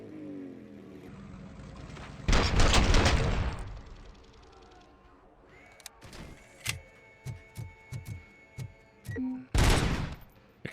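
Gunfire in the shooter game Robocop: Rogue City: two loud bursts of rapid fire, then a run of separate single shots pacing the middle, ending in another heavy volley over a low background rumble.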